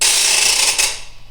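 A rattle shaken in a steady burst of dense dry clicking and scraping, loud and close, holding for about a second and then fading out, with no voices.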